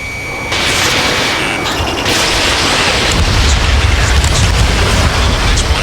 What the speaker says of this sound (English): There's a hit on the laser cannon.